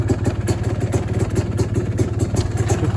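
A Polaris Scrambler 400 ATV engine idles steadily, a close, even low putter with a light mechanical clatter running throughout, no voices over it.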